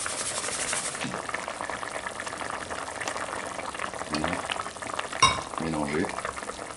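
Beef stew sauce bubbling in a pot, a soft steady simmer with a few stirring clinks and a sharp knock near the end, a voice talking briefly over it.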